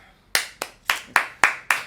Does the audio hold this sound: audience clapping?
yes